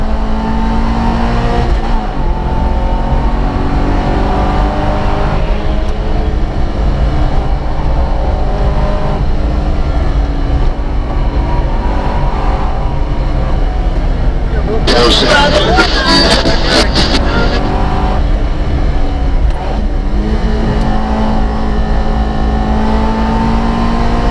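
A Porsche drives past at a racing circuit session, its engine note swelling and rising in a brief loud pass amid a constant roar of other cars, with people chatting in the background throughout.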